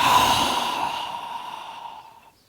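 A single long, forceful breath is pushed out through the mouth in a yoga lion's face breath with the tongue out. It is close and loud at first, then fades away over about two seconds.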